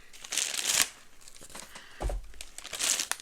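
Plastic bag crinkling and rustling as Beatles record box packaging with custom-fit Styrofoam bumpers is handled, in two brief bursts of close, crisp crackle with a soft thump in between.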